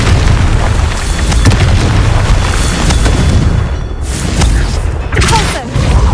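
A Confringo blasting curse explodes in a Harry Potter video game, a loud, dense booming blast that rumbles on continuously for several seconds with crackling debris layered over the roar.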